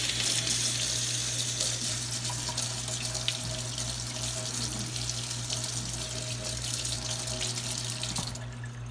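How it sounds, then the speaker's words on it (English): Water runs steadily from a tap as a commercial electric orange juicer is rinsed, a continuous close splashing hiss that tails off near the end. "all you gotta do is just rinse it down."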